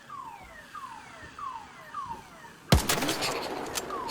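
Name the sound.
car alarm in a video game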